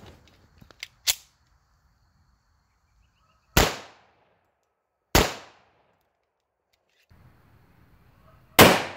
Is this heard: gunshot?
yes